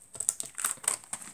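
Sheet of paper handled and crinkled while prepping a papercraft notebook cover, a run of close, crisp rustles and crackles in short uneven bursts, no talking.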